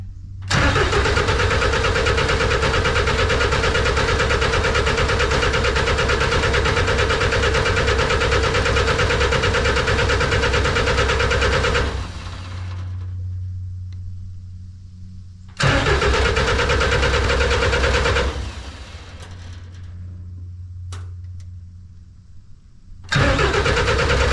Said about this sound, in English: I know this engine sounds really good, so let's see what it'll do.